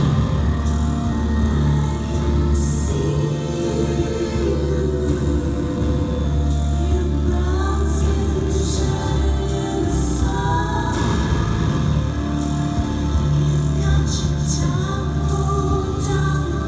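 A dark, moody cover of a song plays steadily and loud throughout, with sustained synth layers, a low bass line and a continuous beat, and no voices over it.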